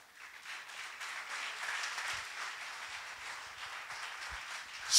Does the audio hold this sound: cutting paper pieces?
no